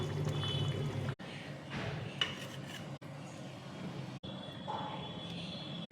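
Oil is poured into a simmering mustard-paste fish curry with green chilies, giving a continuous pouring, bubbling wash broken by a few abrupt cuts, with a faint voice in the background.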